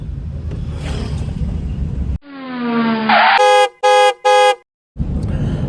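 A vehicle horn sounds during a driving lesson: after a drop from background noise, a sustained tonal honk is followed by three short, loud, evenly spaced blasts, then the surrounding noise returns.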